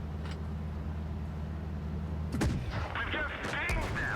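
Tank cannon blasts in World of Tanks Blitz from a Kanonenjagdpanzer tank destroyer facing two enemy tanks: a low engine rumble, then a sharp loud gunshot boom with ringing metallic impact sounds after it.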